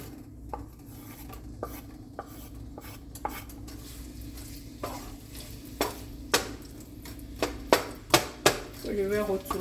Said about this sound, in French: J'y ai versé de l'huile. Je vais verser de l'oignon haché.